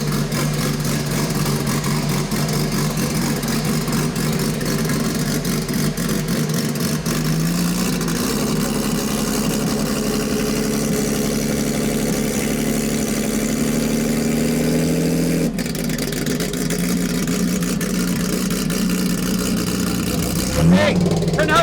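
2700+ horsepower VL drag car engine running without nitrous, a loud, steady idle rumble that rises in pitch and holds partway through, droning continuously for around twenty seconds with voices faintly underneath.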